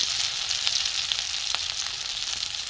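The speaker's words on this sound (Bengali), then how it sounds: "একটু কড়া করে আমি ভেজে নেবো" Fritters made from prawn heads crisp up in hot oil, a dense, bright, steady sizzle close by with a few faint crackles and no voices.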